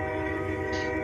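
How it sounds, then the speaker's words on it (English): A train passes at night, its horn and steady rolling rumble filling the whole second as a constant, fairly distant drone with a brief brighter swell near the end. "The train passing at 11 o'clock at night."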